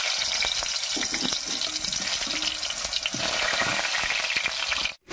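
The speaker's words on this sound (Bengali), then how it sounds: "এবারে আলুগুলো একটু ঠান্ডা হলে ভেজে নেব। আর তার জন্য কড়াইতে দিয়ে দেবো সরষের তেল।" Boiled, cooled potatoes fry in hot mustard oil in a wok, a loud, dense, constant sizzle and crackle close up with occasional stirring scrapes, and it cuts off abruptly at the end.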